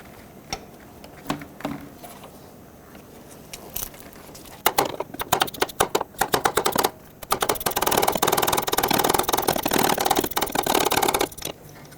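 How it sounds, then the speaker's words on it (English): A ratchet with a 15mm socket works on the idler pulley bolt of a 2007-2009 Saturn Aura. A few scattered clicks lead into loud, rapid, continuous ratcheting up close, and it stops abruptly near the end. No one speaks. "Get your 15mm socket. Let's break this free."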